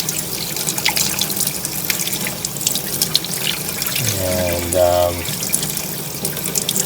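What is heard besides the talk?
rinsing a Rotax air filter under running tap water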